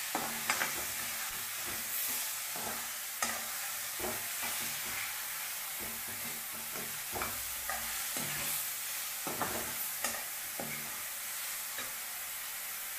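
Onions with salt sauté in a pan for avalakki oggarane, giving a steady bright sizzle and frying hiss, punctuated by irregular stirring scrapes and clacks.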